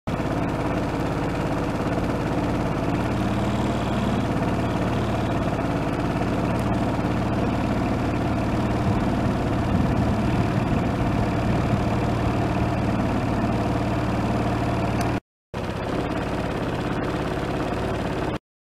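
An RV engine idles steadily just after refueling, a continuous low rumble and vibration that runs loud throughout with one brief dropout near the end.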